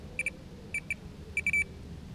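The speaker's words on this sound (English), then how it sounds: "I've got an audible bite alarm here" An electronic fishing bite alarm on a feeder rod at a lake chirps in short high beeps, a pair, another pair, then a quick run of three, crisp and close over quiet outdoor background.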